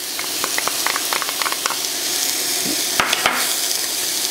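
Sweet white onion hits a hot soup pot with a steady broadband sizzle, scattered crackles and pops riding on top, plus a couple of scraping stirs near the end; no talk.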